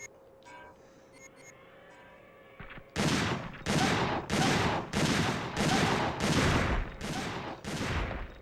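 Gunfire in the video game Dino Crisis 2: after a quiet ambient stretch, a loud run of about eight heavy shots follows at a steady, evenly spaced rhythm, close and alone.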